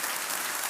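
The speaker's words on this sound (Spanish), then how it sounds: "¿Por qué no le damos un aplauso fuerte al Señor que se estremezca?" Loud, dense applause from a church congregation, a continuous wash of many hands clapping at close range with no speech over it.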